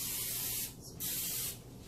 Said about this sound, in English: I'm going to spray a little bit more.